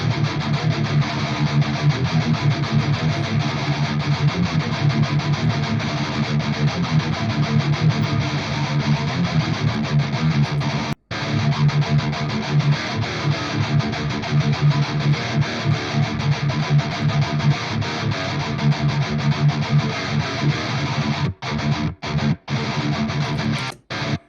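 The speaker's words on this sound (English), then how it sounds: "Okay, so guitar tone sounds like this." Heavy distorted electric guitar riffing through Soldano, Gojira and Fortin Nameless amp simulations, a dense, loud, continuous wall of tone with a few brief abrupt stops near the middle and end.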